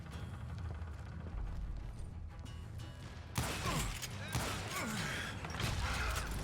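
Gunfire in the video game Call of Juarez Gunslinger: a loud burst of shots starts partway through, over steady game ambience and mechanical clatter.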